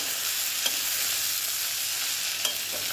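Okra fries in a pan with a steady, loud sizzle while Maggi masala is stirred in, with two faint utensil taps against the pan, close up and without voices.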